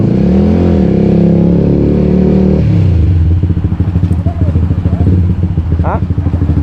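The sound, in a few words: motorcycle engine revving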